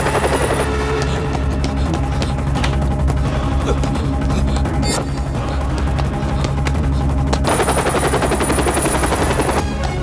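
Rapid bursts of gunfire ring out loud and continuous over a steady helicopter drone in a South Indian action film scene near a tower helipad, the shots crackling densely with no pause.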